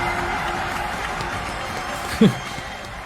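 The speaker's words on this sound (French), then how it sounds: "on peut quand même applaudir" Studio audience applause on a French culture and sport show runs steady and fairly soft throughout, with one brief louder knock near the end.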